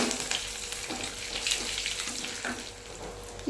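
Dried red chillies and curry leaves crackle in hot oil, a close continuous sizzle with small bursts and pops scattered along its length.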